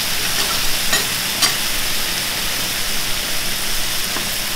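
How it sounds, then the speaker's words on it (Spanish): Sweet potato gnocchi stirred in a pan, a steady close sizzle with occasional scraping strokes of the utensil, loud and continuous, no speech. "Vamos meneando los ñoquis hasta que ellos vayan subiendo."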